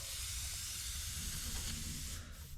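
An airbrush is sprayed out during cleaning, giving one continuous, even, close hiss of air that runs for a few seconds without any voices.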